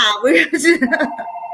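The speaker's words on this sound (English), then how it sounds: "my phone's ringing" A telephone rings with a steady electronic tone near the end, right after cheerful overlapping chatter among several women at a sewing get-together.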